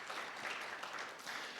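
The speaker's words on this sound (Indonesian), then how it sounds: "Tepuk tangan bagi Tuhan Yesus" Congregation clapping during a Sunday church service, a faint, steady wash of many hands applauding together for a brief moment, with no voices over it.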